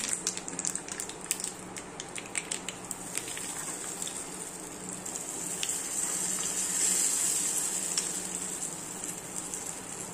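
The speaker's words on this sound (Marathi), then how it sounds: "आता फोडणी देते।" Mustard seeds, cumin and curry leaves are tempered in hot oil in a kitchen pan, giving a steady hissing sizzle with crackling pops that swells toward the middle.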